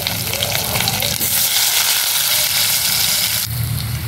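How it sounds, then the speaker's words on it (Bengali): Potatoes frying in hot oil with whole garam masala spices make a loud, steady sizzle that swells sharply into a fuller hiss midway, then settles back down. "এবারে আলুগুলোকে ভেজে নেব।"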